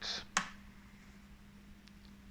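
A few sharp plastic clicks and snaps, close and quiet, as a laptop keyboard and its plastic cover are pried loose, with a faint steady hum in between.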